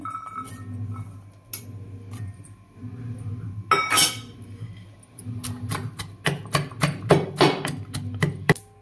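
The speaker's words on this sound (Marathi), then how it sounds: "सर्वात पहिल्यांदा आपण लसूण ठेचून घेऊया" Garlic being crushed in a home kitchen, a run of sharp clinking, tapping pounding strokes on a hard surface, quickening and getting louder toward the end, with faint background hum and a brief louder clatter.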